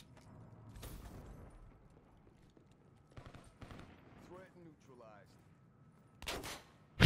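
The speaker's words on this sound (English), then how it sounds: "He shot at me" Call of Duty gunfire on the map Rift rings out in several short separated bursts, with quiet gaps between them and a sharp loud volley at the end.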